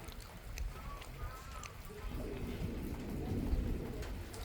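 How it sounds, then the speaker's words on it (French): Heavy rain from a thunderstorm in the Aude hisses steadily while low thunder rumbles and rolls beneath it, with faint bird chirps early on. "C'est quoi ces coups de tonnerre?"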